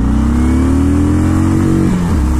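Ducati XDiavel S motorcycle accelerating hard off the line, a loud, close engine revving steadily upward in pitch, heard alone without talk.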